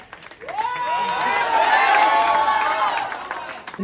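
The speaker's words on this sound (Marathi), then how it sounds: "टाळ्या वाजवा जोरदार" Spectators at a Dahi Handi event cheer and clap loudly as a five-tier human pyramid stands, with a rising crowd roar, a shrill whistle-like tone across the middle, and voices mixed in throughout.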